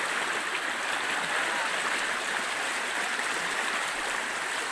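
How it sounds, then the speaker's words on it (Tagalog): A river stream rushes steadily in a continuous, full hiss of flowing water, close and loud with no pauses. "Ang ganda ng agos sa tubig"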